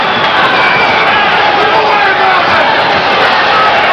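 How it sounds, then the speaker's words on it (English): A boxing crowd yells for a knockout while Willy Warren bleeds during his bout with Marvin Hagler, a loud, continuous roar of many voices with a commentator talking over it. "The crowd is yelling for a knockout."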